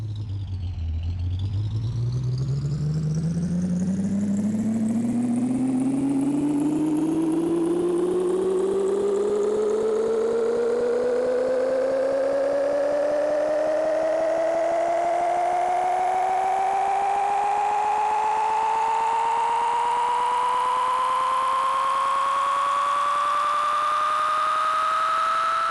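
Truck engine in the Big Rigs: Over the Road Racing video game, reversing with a steadily rising whine that climbs in pitch for over twenty seconds, loud and continuous with no talk.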